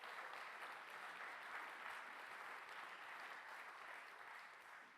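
Audience applause for a product team at a software showcase, a fairly quiet, even wash of clapping that tapers off slightly toward the end.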